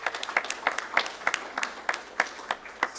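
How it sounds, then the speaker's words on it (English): Sparse applause from a small group at a community college board of regents meeting, a handful of distinct claps ringing out fairly quietly and unevenly for a few seconds. "Big round of applause for them because that's huge."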